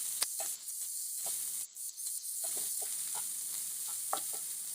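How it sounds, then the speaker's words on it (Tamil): Finely chopped onions sautéing in a pan with ginger garlic, a steady close sizzle with repeated scraping strokes of a stirring spoon against the pan, no voices. "நல்லா வெங்காயம் நல்லா வதங்கட்டும்."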